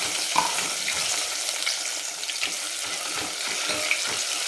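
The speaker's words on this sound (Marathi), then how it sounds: "अद्रक लसूण थोडंसं मी ठेवलं होतं ते टाकून घेऊ आपण आणि थोडंसं परतून घ्यायचं याला." Ginger and garlic fry in hot oil for a spicy mutton and pumpkin curry, a continuous close crackling sizzle with small pops throughout and no talking.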